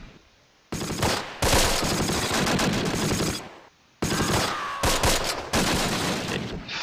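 Bursts of rapid machine gun fire in the Arnhem wartime strategy game Close Combat: Last Stand, loud and sustained in two long volleys separated by brief pauses, with sharp crackling shots layered over one another.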